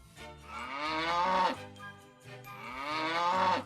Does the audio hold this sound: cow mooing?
yes